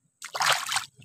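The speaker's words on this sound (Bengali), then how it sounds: "তো এখন হাতটা ধুয়ে নিব একটু।" Water running and splashing over hands for about a second, a short broadband rush that starts abruptly and stops, close and fairly soft.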